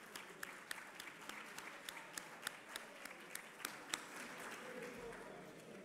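Applause for a quiz panel at a community cup presentation, a room of people clapping with crisp distinct claps over a softer crowd murmur, moderately distant and fading slightly toward the end.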